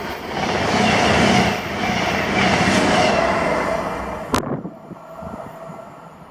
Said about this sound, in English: This should be 95, the 1203 Scottish service to Glasgow Central from Lanark.